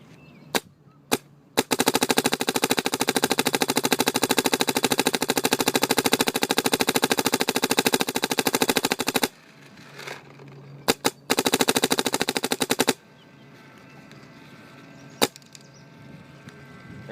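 A 2008 MacDev Droid V3 paintball marker fires long rapid bursts of shots in a steady mechanical rattle, loud and close, with a few single pops before and between the strings of fire.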